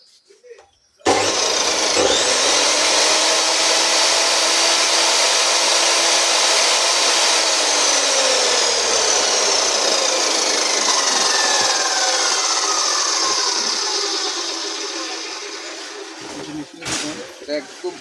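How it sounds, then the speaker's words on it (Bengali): Thai aluminium rod cutting machine at a shop in Nawabpur, Dhaka, starting up abruptly into a loud continuous high whine that holds steady, then fades as it winds down near the end, with someone talking nearby. "এই যে দেখো মেশিনে চালাচ্ছি এখন একদম"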